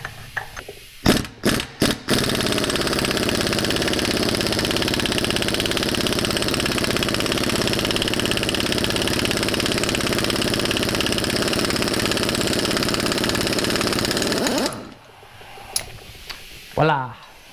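An Earthquake pneumatic impact gun from Harbor Freight runs in reverse on a type 1 VW engine flywheel, loud and continuous for about twelve seconds after a few short bursts, then cuts off as a voice speaks.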